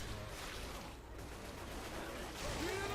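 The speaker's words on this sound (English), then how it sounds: "Shoot down there and hope you hit" Gunfire from the video game Left 4 Dead 2, a dense rattling fusillade of rapid shots blending into a steady noisy wash, moderately loud throughout.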